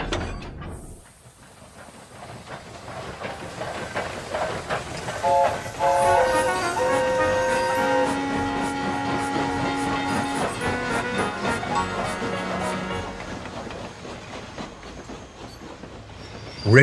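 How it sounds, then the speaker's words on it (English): A train shunting tanker wagons rumbles and clanks slowly along the rails, with long metallic wheel squeals ringing out over the rolling clatter of wagons. "He took Daisy's words to heart and shunted the tankers onto his train without any bumping."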